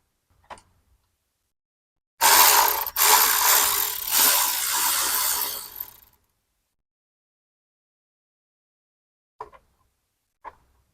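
Ratchet wrench loosening 10 mm bolts on a 2007–2009 Honda CR-V while replacing the transmission pressure sensor, a dense clicking burst of about four seconds, then two faint isolated ticks near the end.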